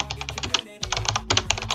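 Typewriter sound effect of rapid clacking keystrokes in quick irregular bursts, a brief gap midway, then more dense clicking, close and fairly loud, with no voice over it.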